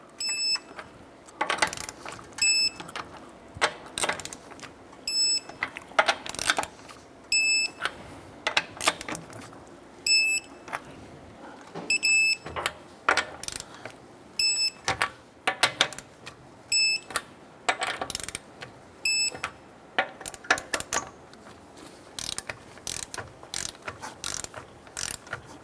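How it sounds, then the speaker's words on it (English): Lug nuts on a 2008-2012 Honda Accord being tightened to 80 foot-pounds with a torque wrench: rapid ratcheting clicks in repeated bursts, with periodic sharp metallic pings as the wrench reaches torque. "Let's go ahead and torque down our lug nuts to 80 foot-pounds."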